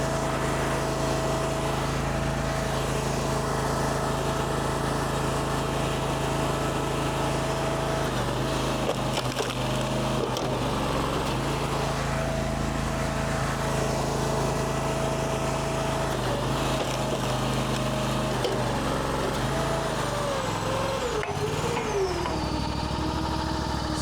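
Engine-driven log splitter working through a knotty piece of resplit wood, a steady loud engine drone throughout with the pitch sagging and recovering several times as the ram pushes under load.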